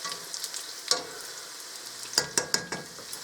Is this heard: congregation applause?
no